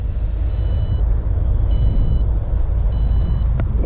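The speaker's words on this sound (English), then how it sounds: "We'll get that battery out of there so we don't have to listen to that annoying beep anymore." A drone's low-battery warning beeps in three evenly spaced, high-pitched bursts, each about half a second long, over a loud steady rumble of background noise.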